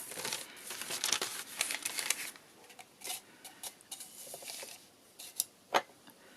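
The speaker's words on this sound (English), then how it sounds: "I'll just use a book page for now. I'll just fold it in half." A book page being folded in half gives crisp, close paper crinkling and rustling: a dense burst at first, then a few sharper separate crackles as the crease is pressed.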